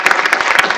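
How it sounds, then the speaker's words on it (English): Audience applause for the panelists at a symposium, a short burst of dense, steady clapping from a seated crowd that fills the space evenly with no voices over it. "If everyone would please join me in giving our panelists a round of applause"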